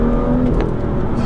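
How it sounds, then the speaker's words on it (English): A BMW in Sport Plus mode accelerates hard in third gear at about 20 mph, giving a steady, loud engine drone heard from inside the cabin with no talk over it. "So third gear pull now,"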